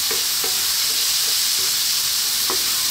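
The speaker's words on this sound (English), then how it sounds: "Let's get that sweet corn in. You can turn off the heat. You can give that a little mix." Sweet corn and bacon being stirred in a pan with the heat just switched off, giving a soft, steady sizzle with a few light scraping strokes of the spoon.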